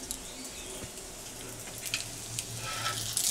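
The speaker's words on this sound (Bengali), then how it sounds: "ভাজছি পরোটাগুলো।" Soft, continuous sizzle of stuffed aloo parathas frying in a pan, faint crackles and pops scattered over a low hiss.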